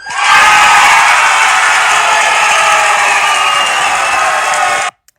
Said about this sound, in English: a little cheering